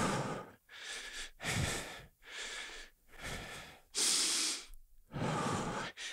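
Heavy, deep breathing from someone working out, with about six long, loud breaths in a steady rhythm separated by short pauses, close to the mic with no talking.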